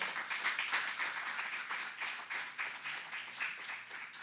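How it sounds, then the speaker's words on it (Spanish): Applause from a church congregation clapping for the Lord during a sermon, a steady wash of many hands over about four seconds at moderate level, with no talk. "¿Cuántos le dan otro aplauso al Señor?"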